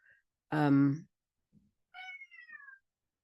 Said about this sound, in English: Hello, noisy cat.